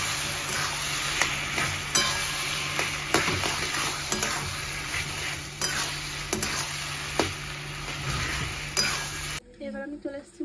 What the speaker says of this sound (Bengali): এবার আমি ভালো করে নাড়াচাড়া করে দেবো।